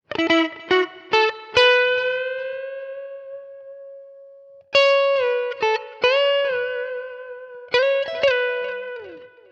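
Smooth electric guitar lead on the neck pickup through an amp modeler, country style, sustained singing notes and quick picked phrases with gentle delay echo, played alone.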